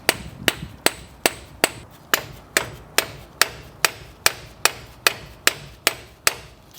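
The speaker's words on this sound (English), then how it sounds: "take a little flathead screwdriver and a hammer and just hammer" A hammer strikes a small flathead screwdriver against a stuck part on a Toyota Tacoma, about fifteen sharp, evenly spaced metallic taps at close range with no talk.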